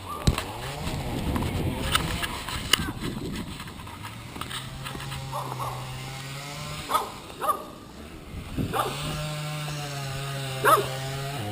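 A dog barks a few times at a distance amid outdoor noise, with a steady low engine drone starting and stopping in the background.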